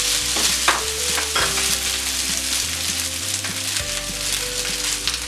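Manchurian balls frying and being stirred in a hot pan for veg Schezwan noodles, a loud continuous sizzle with scraping and clanking from the utensil, no voices.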